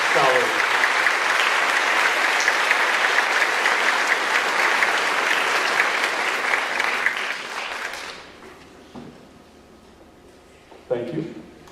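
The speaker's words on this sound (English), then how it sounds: "One more big round of applause for our bright scholars." An audience at a senior awards night gives the scholars a big, loud round of applause. The sustained clapping lasts about eight seconds, then dies away, leaving a quiet room with brief voices near the end.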